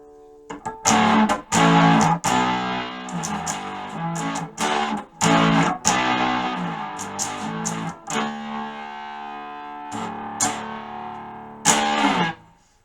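Electric guitar through a high-gain amp channel: heavily distorted chunky chords and riffs in bursts with short pauses, loud and close, with sustained ringing notes between phrases.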